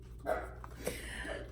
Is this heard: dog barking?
yes